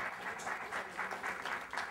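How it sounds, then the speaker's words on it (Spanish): Audience applause for volunteer helpers at a science experiment talk: a faint, steady patter of many hands clapping from a distance, rising and falling slightly in waves over about two seconds. "Un aplauso, por favor, a los colaboradores."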